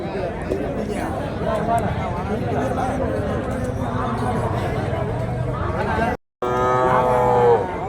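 Native cows low amid the bustle of a rural cattle market at Matrapalli, one long, close moo rising near the end over constant crowd chatter and nearby talking voices.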